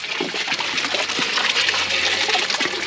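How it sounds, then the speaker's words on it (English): Water gushing steadily out of a freshly rigged pipe on a cattle farm, a continuous close rushing splash that holds at the same level for the whole stretch, with nobody talking over it. "Put some water going."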